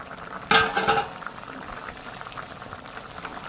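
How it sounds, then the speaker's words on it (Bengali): Elephant foot yam stems boil in a covered pot. A loud metallic clatter as the lid comes off gives way to a steady, soft bubbling. "ঢাকনাটা খুলে দেখি সিদ্ধ হয়েছে কিনা।"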